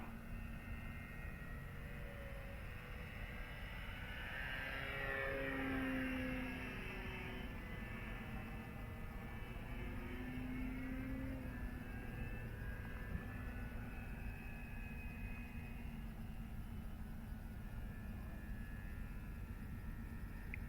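A Dynam Waco RC model biplane, a big plane flying slowly, hums steadily with its electric motor, a faint distant drone that swells briefly and then holds even against a wide breezy background, with no talk.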